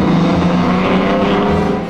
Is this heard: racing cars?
yes